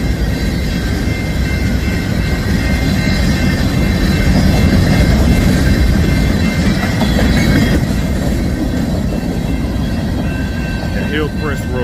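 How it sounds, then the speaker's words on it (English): An empty frac sand freight train passes close by, its loud, continuous rumble carrying rhythmic wheel clatter, and thin squeals creep in near the end. "empty frac sand train."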